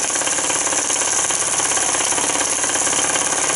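A Wilesco D16el model steam engine chugs in a rapid, even rhythm with a loud, hissing, oily exhaust, close up and continuous.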